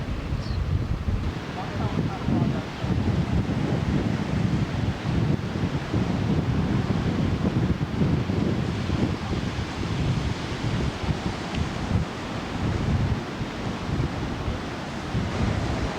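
Pacific Ocean surf and strong wind sweep across a black sand beach on Maui, a steady roaring wash of waves with gusty microphone buffeting throughout.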